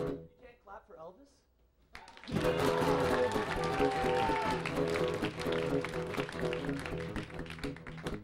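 A club audience applauds an Elvis impersonator introduced as the king of rock and roll, a dense, steady wash of clapping that swells in suddenly after a quieter moment and carries on loudly for several seconds.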